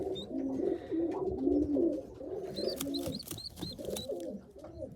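Tippler pigeons sitting on eggs in a loft coo in repeated soft, throaty phrases close by, with a few higher chirps from other birds in the background and no talk.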